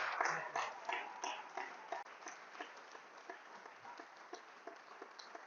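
A church congregation applauding, a scattered round of clapping that starts fairly strong and thins to a sparse, quieter patter, heard from some distance in a reverberant hall.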